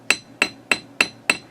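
A small hammer strikes a jewelry wire piece five times at an even pace, each blow a sharp, bright metallic tap ringing briefly, close up.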